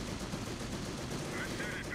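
An MG-42 machine gun firing in the video game Company of Heroes: a steady, dense, loud rattle of gunfire that fills the whole moment without pause.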